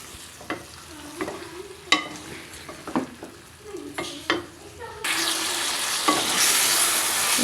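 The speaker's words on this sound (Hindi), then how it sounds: "जनाब ये देखिए मैंने इसको अच्छे से मिक्स कर लिया है सारे मसालों के साथ" Chicken with spices is stirred in a pot, a spoon scraping and knocking in uneven strokes over soft sizzling, with a louder, steady frying hiss taking over in the last few seconds.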